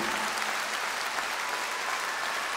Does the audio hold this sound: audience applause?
yes